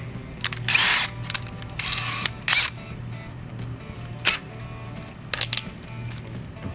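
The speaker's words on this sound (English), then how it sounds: "We can just go in with this rotor broach." A rotor broach punches a 1/2 inch hole through a 1/8 inch pilot in a Harley-Davidson M8 Softail kickstand drop plate, giving several sharp, close, irregular cutting bursts over a low steady hum.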